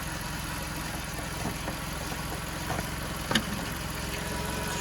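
A Volkswagen Golf 5 estate 1.6 MPI engine idles steadily and smoothly at close range, a low continuous hum with no knocks or rattles, and a brief faint click near the end.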